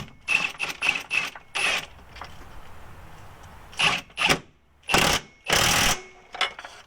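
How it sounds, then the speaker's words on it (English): A hand wrench tightens a link bolt on a Jeep XJ lift kit, giving a series of short metallic ratcheting clicks in separate bursts with quiet gaps between them, close and fairly loud. "so I just get up here with a wrench"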